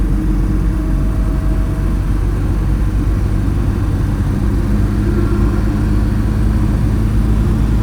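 Inside a cheap used car bought for 500 dollars, the engine and road noise make a loud, steady low rumble throughout the drive on a highway.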